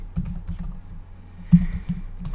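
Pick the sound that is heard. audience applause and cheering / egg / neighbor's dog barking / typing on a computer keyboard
typing on a computer keyboard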